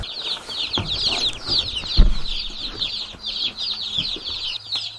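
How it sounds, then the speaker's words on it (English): White Chantecler chicks cheeping: constant high, rapid peeping from a group of chicks close by, with a few soft knocks and handling thumps under the chatter. "Let's put these chicks in their home."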